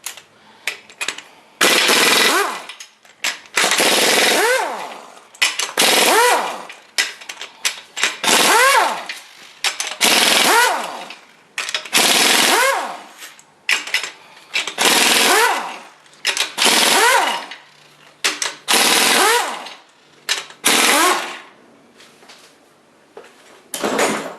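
Main bearing caps on a '62 Studebaker 289 engine loosened with a tool, heard as repeated loud ratcheting bursts of a second or two each, separated by short pauses, close and alone.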